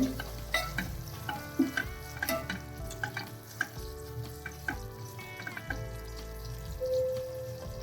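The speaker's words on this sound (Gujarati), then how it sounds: "અને બધું જ પાછું મિક્સ કરી દેવાનું છે" Radish leaves fry and sizzle in a pan while a spoon stirs them with repeated light scraping strokes, close and moderately quiet.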